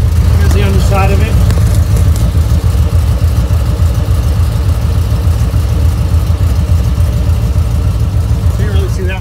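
A supercharged 2008 Ford Mustang GT with a 4.6 V8 and Kenny Bell Stage 1 setup idles close by, a loud, deep, steady rumble with no revving.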